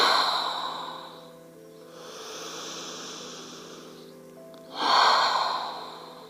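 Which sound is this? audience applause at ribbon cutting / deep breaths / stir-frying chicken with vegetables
deep breaths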